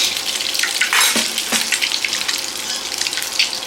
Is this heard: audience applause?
no